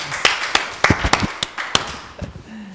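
A handful of separate claps ring out unevenly and close by, like a few people briefly applauding at the end of a studio talk-show segment, then fading out.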